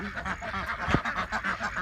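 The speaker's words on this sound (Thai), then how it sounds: "คือเป็ดสองเดือนนะคะ" Two-month-old ducks kept by a duck raiser, giving a close, fairly loud run of repeated honking quacks that continues steadily with no talk over it.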